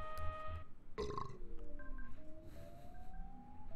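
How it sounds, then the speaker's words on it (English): A cartoonish belching effect voiced for Belch, a hulking garbage-pile monster character in a video game, rising out of game music and electronic tones with a burst of noisy texture near the start. "he makes belch sound effects, and his name is Belch"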